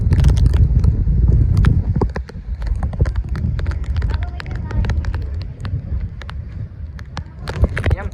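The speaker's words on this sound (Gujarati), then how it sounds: "એમ થાય કે વાવાઝોડું હોય છે એવો પવન અત્યારે નીકળ્યો છે." Strong storm-like wind in Gujarat buffets the microphone with a loud, continuous low rumble, scattered with sharp clicks and rattles throughout.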